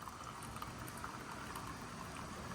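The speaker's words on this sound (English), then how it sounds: "So here you can see the Keurig making a cup of coffee," A Keurig K2500 coffee maker, plumbed straight into a water line, brews a cup of coffee. It gives a quiet, steady hiss and gurgle of hot water, heard alone.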